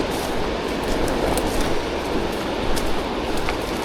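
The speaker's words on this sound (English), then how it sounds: "You see Hedrick Creek down there on the right. Just a gushing." Rushing water of Hedrick Creek in spring high water on a Northern BC trail, a loud continuous broadband roar that stays steady throughout, heard from above down in a gully with no voices.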